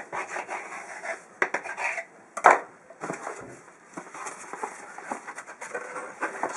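Homemade pizza dough is chopped into thirds on a work surface. Soft scraping and rubbing comes in uneven bursts, with one sharper knock of the blade, close and moderately quiet.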